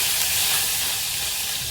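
Mustard seeds, cumin, white sesame and crushed garlic cloves sizzling in hot oil for a tempering, a loud, steady close hiss with no breaks.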